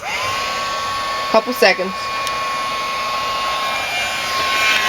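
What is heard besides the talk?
heat tool blowing hot air for shrink wrap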